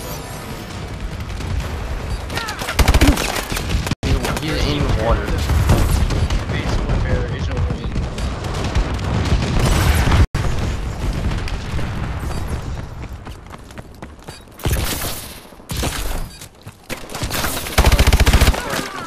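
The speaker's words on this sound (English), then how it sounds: "Friendly bombing run incoming." Heavy explosions and gunfire from a friendly bombing run in a capture-the-flag video game match, dense rumbling blasts and bursts rising and falling over nearly twenty seconds, with a player talking beneath the din.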